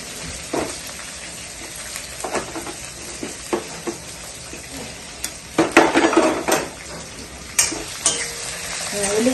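Onions frying in a pan alongside green chillies, dried red chillies, mustard seeds and cumin, with steady sizzling broken by scraping stirs and clinks of a spoon against the pan, growing louder and busier toward the end.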